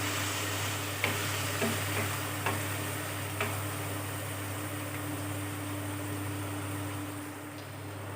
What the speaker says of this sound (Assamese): মই চব্জিখিনি এনেকৈ ভাজি থাকিম, গেছটো মিডিয়াম ফ্লেমত ৰাখি